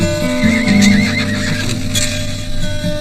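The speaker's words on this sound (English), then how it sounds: "The team horses have been hitched to the wagons" Team horses hitched to wagons in a frontier homestead setting whinny loudly up close, with hoof clops and harness noise running steadily underneath.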